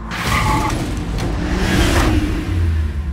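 A moving car rumbles by with a low engine drone and road noise, loud and steady for a few seconds.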